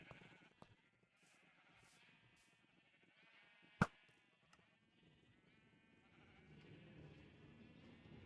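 Sheep in Minecraft 1.16 bleat faintly in a quiet game scene, a few soft wavering calls spread across the clip, broken by a single sharp click near the middle.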